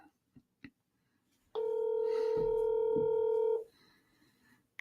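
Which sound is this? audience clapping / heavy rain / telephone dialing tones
telephone dialing tones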